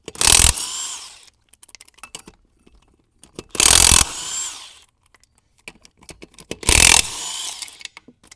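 Three loud bursts from an impact wrench spinning off car tire lug nuts during a timed tire-changing race, each about half a second long and spaced a few seconds apart, with quieter clanks and handling noises in between.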